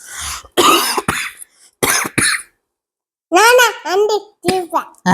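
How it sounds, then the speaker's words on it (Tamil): Several short, sharp coughs come in bursts, followed after a pause by a voice speaking. "ரொம்ப அதிகமாக பேசுனா இருமல் வருதுங்க"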